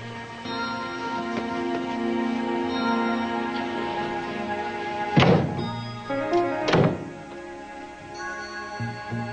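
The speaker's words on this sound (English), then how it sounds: "Close the door on your way out." A low hum gives way to two heavy thuds a second or so apart, like a door shutting, followed by quieter rattles.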